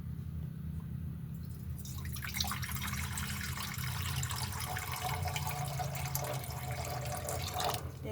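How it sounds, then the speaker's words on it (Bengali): Water runs into a karai set on a gas flame, a steady splashing pour that swells after a quiet start and carries on evenly, with no voices. "আর এর মধ্যে কিছুটা জল দেব।"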